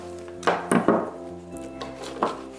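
A few crisp, close snips and clicks as an aspidistra leaf stem is cut, spaced irregularly over a quiet background hum.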